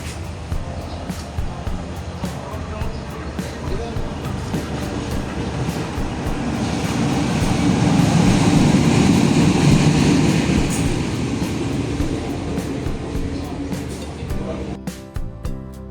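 The Sawunggalih train rumbles into Kroya station, Indonesia, its heavy rolling noise swelling to a peak and then easing, with clattering wheels and a sharp screech near the end.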